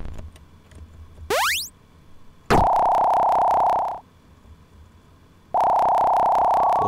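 An electronic telephone ring in the horror video game Hell Prayer House: two long, loud buzzing tone bursts with a pause between, preceded by a quick rising chirp.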